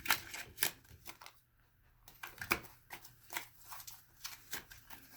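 Tarot cards are shuffled by hand in a quiet room, giving soft irregular slaps and rustles in uneven clusters with brief pauses between, close but faint.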